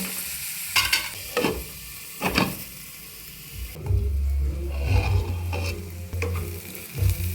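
Tomato and onion masala for an egg and mushroom curry cooking in a pan: a close, steady sizzle with repeated scraping stir strokes and a low bubbling underneath, and no talking.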